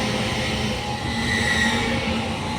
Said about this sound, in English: Departing now is your 1449 Hull Trains Paragon service from London King's Cross to Hull.